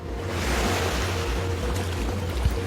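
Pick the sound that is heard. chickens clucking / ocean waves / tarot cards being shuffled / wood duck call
ocean waves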